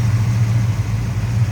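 1970 Dodge Charger SE with a 440 V8 idling smoothly, a deep, steady low rumble close by with no talk.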